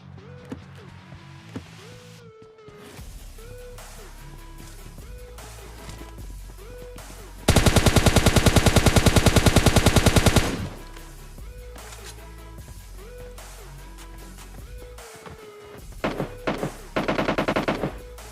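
Gunfire in the PUBG Mobile Lite game: scattered single shots early on, then a long loud automatic burst lasting about three seconds, followed by quieter shots and two final rapid bursts near the end.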